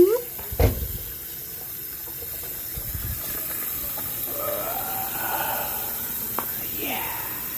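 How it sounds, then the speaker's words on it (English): Warm water runs from a tap into the tank of a Hoover Spin Scrub 50 carpet cleaner, a steady hiss and splash that settles into a continuous filling sound, with a couple of brief clunks early on. "Conveniently, I have the water running nice and warm. So let's go ahead and fill this sucker up."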